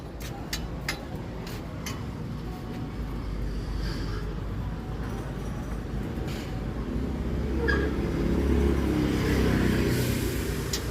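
A Rusi 125 motorcycle tricycle, a three-wheeler used for hauling fruit, runs with a steady broadband rumble that swells slightly toward the end, close by and alone with no talk over it.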